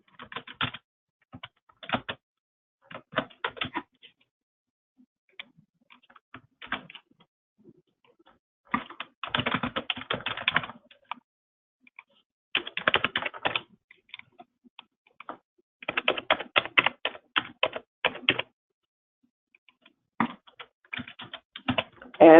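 Credit card details being typed on a computer keyboard, with bursts of quick, close key clicks separated by pauses, heard alone without talk.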